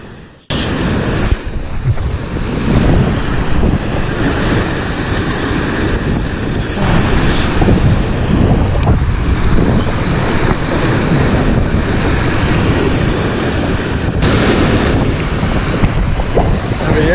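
Loud, continuous surf and waves washing over shoreline rocks during shore fishing for roosterfish, with heavy wind rumble on the microphone throughout and no talking.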